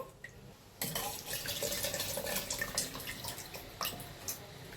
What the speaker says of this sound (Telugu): ఇక్కడ మనం ఇదే మిశ్రమంలో వేసేసి పైన వాటర్ అయితే వంపేసాము